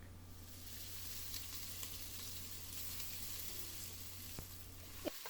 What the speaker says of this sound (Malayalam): ഒന്ന് വഴറ്റി കൊടുക്കാം. സവോള നന്നായിട്ടൊന്ന് വാടി വരണം.